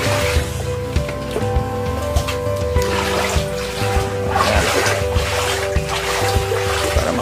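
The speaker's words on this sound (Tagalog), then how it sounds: "doon lumalabas naman yung tubig galing dito sa apartment pagka umuulan" Rainwater pours and splashes continuously out of a hole in an apartment during heavy rain, a steady rushing gush with a low hum running underneath.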